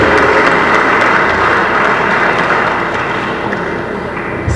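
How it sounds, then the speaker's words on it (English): Dense audience applause at a polytechnic annual day celebration for prize winners, loud and continuous, easing slightly toward the end. "I request everyone to give them a big round of applause."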